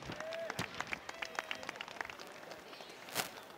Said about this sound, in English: In 4th place, let's clap it up for Susan Wagner with 27 points.